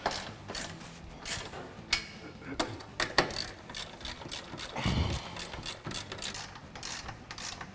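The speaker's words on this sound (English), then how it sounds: "then you guys can start tightening down the bolts" Ratchet wrench tightening bolts on aftermarket Nerf bars in a shop garage: a close series of quick metallic clicks in irregular bursts, with occasional clanks and a low thud near the middle.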